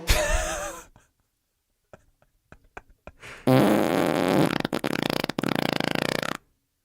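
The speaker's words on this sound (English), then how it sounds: "can we put a fart noise?" A fart noise sound effect in an Ableton production session, one blast up front, then scattered short clicks, and a long buzzy, sputtering fart that breaks up into rapid pulses before cutting off abruptly.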